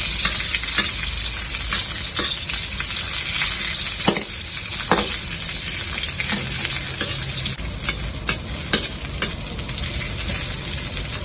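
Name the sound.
capsicum frying in oil on low fire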